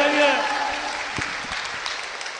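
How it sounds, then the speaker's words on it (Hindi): An audience at a Hindi-language church sermon breaks into applause, a loud burst of clapping that starts strong and gradually thins to scattered claps, with a voice speaking over the start. "हालेलुया, ताली बजाइए।"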